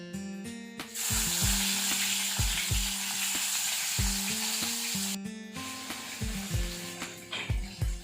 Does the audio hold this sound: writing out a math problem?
no